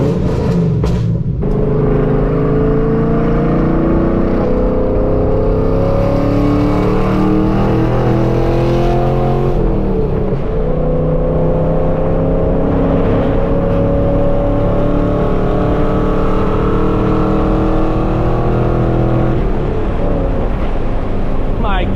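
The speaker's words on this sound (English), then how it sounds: "Even though I've had this exhaust for nearly 2 years now, I'll never get over how loud it is." Camaro SS with a loud aftermarket exhaust cruising on the road to a car meet in Florida, a constant heavy droning rumble that shifts pitch as the engine revs rise and settle, with no pause throughout.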